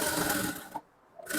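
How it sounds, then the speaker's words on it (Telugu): A sewing machine stitches a halter neck blouse in two short, fast, whirring runs, close and loud, with a brief pause between them. "ఇప్పుడు దీనిపైన ఒక స్టిచ్ వేసుకోవాలి."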